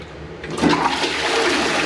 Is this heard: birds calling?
no